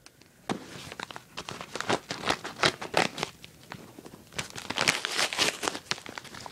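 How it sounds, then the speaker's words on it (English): Scissors cutting open the packaging of a Thomas Wooden Railway Toad toy, a rapid series of close, sharp snips and crinkling plastic, irregular and busy with brief pauses. "we're going to open this with our trusty scissors."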